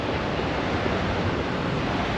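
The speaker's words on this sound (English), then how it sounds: "And that is the Pacific Ocean." Pacific Ocean surf at the beach on the US-Mexico border, a steady broadband wash of waves with wind, continuous and fairly loud with no voices.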